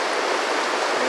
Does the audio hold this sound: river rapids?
yes